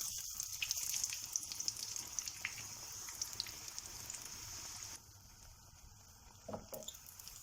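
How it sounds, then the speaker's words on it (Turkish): Pişi dough dropped into hot oil in a frying pan gives a faint, steady sizzle with scattered crackles and pops, quieter in the latter part. "Kızgın yağımın içerisine pişimi bırakıyorum"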